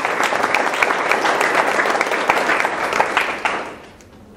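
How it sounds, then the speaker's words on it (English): Audience at a university distinguished research lecture applauds an award recipient, a loud, full burst of clapping that holds steady and then tapers away near the end. "Please join me in applauding Dorneth for her accomplishments and well-deserved recognition"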